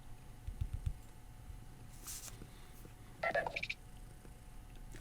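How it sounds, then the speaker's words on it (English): A Nothing Phone 3 plays a short incoming text message notification, a brief bright chime burst heard up close in a quiet room, followed moments later by a second cluster of tones. "Let me show you what it looks like when you're getting a text message."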